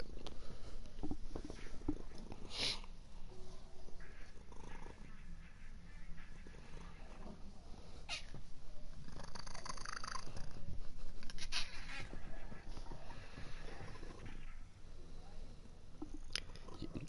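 A cat purrs in a low continuous rumble close by, mixed with faint chewing-like clicks and occasional sharp sounds, without clear speech.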